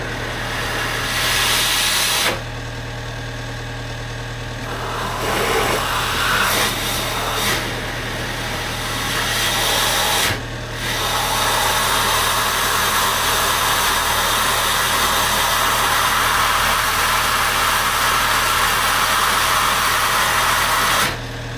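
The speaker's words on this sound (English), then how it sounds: "hopefully we're going to get a bit of revs" A Toyota car engine runs steadily for the whole stretch, with a steady low hum and a few brief dips and surges in revs from idle-up.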